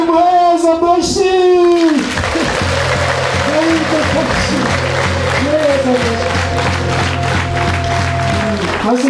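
Congregation applause breaks out during a church sermon, a dense steady wash of clapping that follows a brief voice at the start, with low keyboard tones sustaining underneath.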